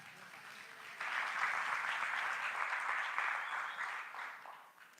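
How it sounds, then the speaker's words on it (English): Audience applause at a startup demo day, a broad wash of many hands clapping that swells after a second and holds steady, then tapers slightly toward the end. "So give it a round of applause for Jose from Dame Un Bite."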